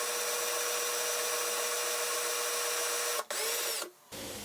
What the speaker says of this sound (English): I can drill through the soundboard and through the rosewood bridge plate underneath.